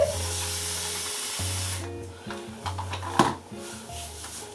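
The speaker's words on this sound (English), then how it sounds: "I'm going in with the TD Curl Cousin Curl Kit spray bottle." A short hissing burst from a spray bottle misting water onto hair at the start, followed by quieter clicks and handling noises against a low steady hum.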